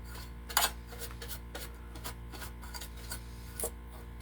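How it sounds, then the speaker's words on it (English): A brush scrubs plaster dust off a part before fiberglassing: soft, close rasping strokes in quick irregular bursts, one sharper scrape early on, fairly quiet with no speech. "Got this plaster off of here so it doesn't go into the fiberglass."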